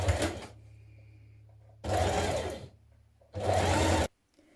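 A sewing machine stitches a shirt hem in three loud, close bursts of rapid whirring, separated by short pauses of low hum and near silence.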